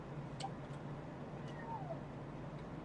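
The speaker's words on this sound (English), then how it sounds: "cat watching over the front desk" A cat in the video game Genshin Impact, watching over a front desk, gives a faint short meow over quiet background ambience.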